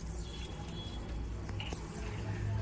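Water running steadily as cream is rinsed from a client's hair during a hair spa treatment in a beauty parlour, a continuous close splashing wash with no talk.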